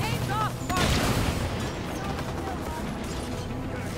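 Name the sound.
gunfire from enemies in video game Halo 5: Guardians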